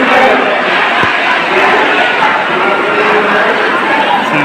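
A large crowd packs the streets of Dongargarh at 2 am, a loud, dense roar of many voices and shuffling that stays steady throughout, with nearby people talking over it.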